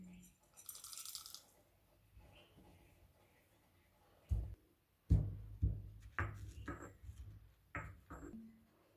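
Sharp, irregular thuds and clinks of dried ginger and black pepper pounded in a stone mortar, a handful of knocks spaced unevenly, close by and fairly quiet, with brief rattling in between.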